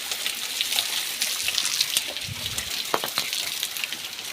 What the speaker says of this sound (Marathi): इथे पाणी गळत आहे